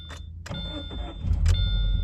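A car engine cranks over with a rough, grinding churn that grows louder toward the end, close by and without talking.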